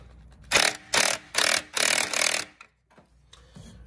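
Four close ratcheting strokes from an 8 mm socket wrench tightening a hose clamp on a Fiat 500 Abarth intercooler pipe, each a short rasping burst, then quiet.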